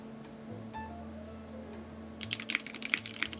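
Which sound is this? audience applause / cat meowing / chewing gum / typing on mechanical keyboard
typing on mechanical keyboard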